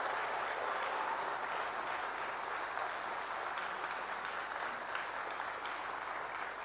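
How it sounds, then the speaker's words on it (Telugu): Steady, dense audience applause at a Telugu political speech, loud and continuous throughout with no speech over it. "చేస్తా అనుకున్న వాళ్ళందరూ కూడా గట్టిగా చప్పట్లు కొట్టాల్సిందిగా నేను కోరుతున్నా"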